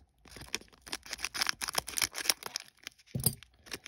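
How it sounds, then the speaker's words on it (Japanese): Scissors snip open a PreCure wafer snack pack in a quick run of crisp cuts and plastic crinkles, close and fairly quiet, with a short rustle near the end. "こぼれないようにハサミにします。"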